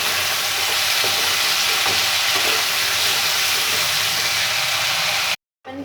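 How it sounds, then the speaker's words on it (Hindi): Potatoes frying in oil with nigella seeds, fennel, black pepper and cinnamon, stirred steadily: a loud, dense, close sizzle that runs unbroken for several seconds, then cuts off abruptly. "तकरीबन 4 से 5 मिनट आपने इसे अच्छे तरीके से हिलाना है, आलूओं को अच्छे तरीके से फ्राई करना है।"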